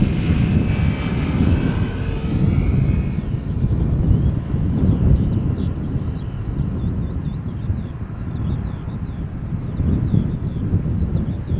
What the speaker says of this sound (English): you can see the next airplane turn in, which is a Transavia 737 arriving from Palma de Mallorca